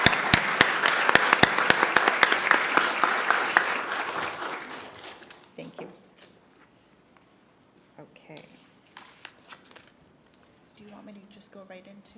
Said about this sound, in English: let's give a huge round of applause for our art students